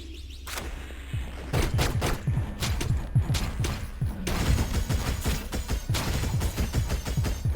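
Sniper gunfire in Hyper Light Drifter, heard as a run of sharp, close shots and impacts in quick irregular succession, fairly loud, over a low rumbling game background.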